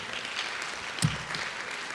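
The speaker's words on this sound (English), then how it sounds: "Big round of applause for Blake" A luncheon audience applauds for Blake in a steady, fairly faint wash of clapping with one brief thump near the middle.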